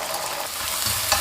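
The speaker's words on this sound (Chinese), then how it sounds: "起锅倒油，油热放入鸡蛋液" Beaten egg hitting hot oil in a wok, a steady bright sizzle at close range, quiet and unbroken.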